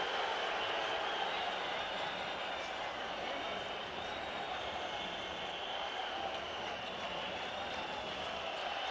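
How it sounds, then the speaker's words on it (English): A basketball arena crowd roars during a 1998 World Cup semi-final between Yugoslavia and Greece, a steady broad wash of cheering and noise that holds loud throughout with a commentator talking over it. "Crowd erupts."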